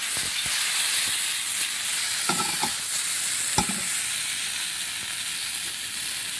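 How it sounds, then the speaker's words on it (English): Food browns in a cast iron pan over a campfire-style setup, giving a loud, continuous sizzle and hiss with a few sharp metallic clicks and scrapes from stirring, close up and steady throughout. "we'll brown them up a little bit"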